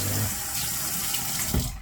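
Water runs steadily from a tap onto a puck of shaving soap in a small tub, a close, continuous splashing stream with no talking.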